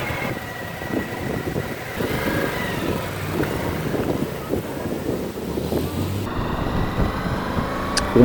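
A Suzuki V-Strom 1000 motorcycle engine idles and hums steadily and smoothly, with wind buffeting the microphone throughout; no one speaks.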